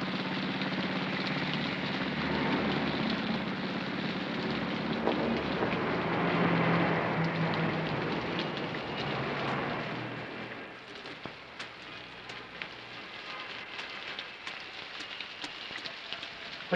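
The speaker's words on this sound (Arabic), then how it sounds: "خش خش خش من المطر." Heavy rain falls steadily as a dense, loud hiss for about ten seconds, then thins to a quieter patter with scattered drips. A low engine-like rumble sits underneath.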